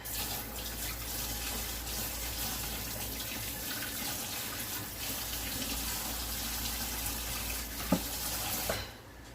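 Water running steadily from a kitchen tap while a dish is rinsed during cake making, a constant close gush with a couple of small clinks near the end before it cuts off.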